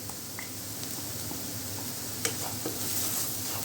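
Dry coriander powder and spices sizzling steadily in hot oil in a pan while being stirred for an anda chingari egg dish, with soft scrapes and light clicks over a constant close frying hiss.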